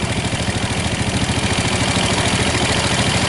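A Yamaha Jupiter motorcycle engine idles loudly up close with a steady rapid thumping pulse. The engine was rebuilt less than two weeks earlier and makes an abnormal noise again, with oil spraying out near the clutch.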